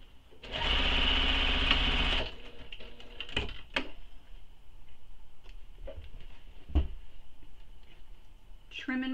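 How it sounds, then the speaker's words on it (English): A sewing machine stitches a dart on a handmade bag in one loud, rapid burst of about a second and a half, then stops, followed by clicks, handling noises and quiet talking. "So now I'm going to sew the other dart."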